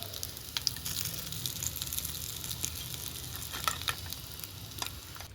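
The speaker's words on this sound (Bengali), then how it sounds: "দেখো কি সুন্দর করে ভাজা হচ্ছে" Rohu fish koftas deep frying in a kadhai of oil, a dense, steady bubbling sizzle with occasional crisp pops and light spoon taps, close and continuous.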